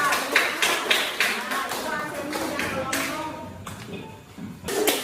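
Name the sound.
children clapping hands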